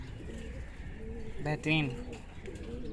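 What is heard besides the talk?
pigeons cooing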